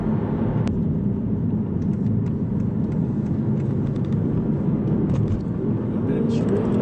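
An Aston Martin Virage cruises in automatic mode below 2,000 RPM on a dual carriageway, a steady low engine and road rumble throughout with someone talking over it.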